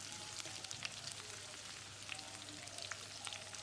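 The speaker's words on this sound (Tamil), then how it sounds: "வெங்காயத்தை செவந்து வர அளவுக்கு வதக்கிடலாம்." Steady soft crackling sizzle of onions and curry leaves frying in a pan for tiffin sambar, with scattered faint pops and a low hum underneath, no voices.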